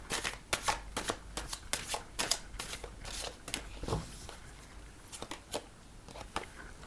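Tarot cards being shuffled close up, a quick run of crisp riffling flicks and snaps in rhythmic bursts, soft and without talk.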